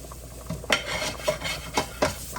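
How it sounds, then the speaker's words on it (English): A spoon scrapes through gumbo roux in a pot in about five steady, rhythmic strokes, close and clear over a faint background hiss, with no talking. "I'm just going to start stirring"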